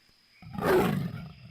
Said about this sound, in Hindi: ये आवाज तेंदुए के गुर्राने की आवाज है।